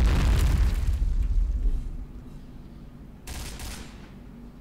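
Grenade explosions in Point Blank: a loud close blast with crackling debris fades out, then a second, fainter burst follows about three seconds later.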